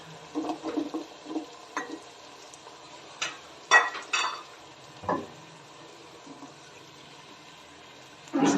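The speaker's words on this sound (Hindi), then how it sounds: "अब हम इसमें डालेंगे गाजर और इसको फ्राई" Carrots being fried in a pan with already-sautéed onion and tomato for a mixed vegetable soup: a soft, low sizzle under scattered spatula scrapes and sharp knocks against the pan, with no one speaking.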